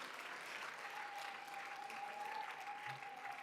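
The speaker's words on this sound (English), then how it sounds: "A warm round of applause for her and our panelists" An audience at a constitutional anniversary panel gives a warm round of applause, a steady, even wash of clapping that holds at a moderate level throughout without voices.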